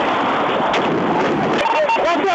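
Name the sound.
gunshots fired into a vehicle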